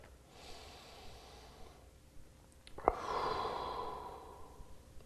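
A yoga instructor breathes slowly through a hip stretch, with a long audible exhale and a sharper nasal snort in the middle, close and quiet with no talking.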